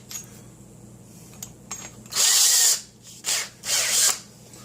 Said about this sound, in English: And now we're going to drill out the half-inch hole.